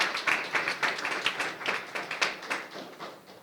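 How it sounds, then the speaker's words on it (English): Audience applause at a school board meeting, a steady round of clapping from a room of people that carries on throughout without letting up. "Please join me in giving the Schools Foundation Board a very appreciative round of applause"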